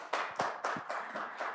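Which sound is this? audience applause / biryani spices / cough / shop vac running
audience applause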